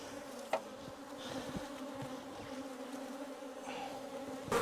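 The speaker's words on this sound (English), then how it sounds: "I don't know if you guys can make out all of these bees swarming around me" A swarm of honey bees on alert buzzes around a beekeeper in a protective suit on a Portuguese farm, a steady close droning hum with individual bees passing near and occasional bumps, no talking.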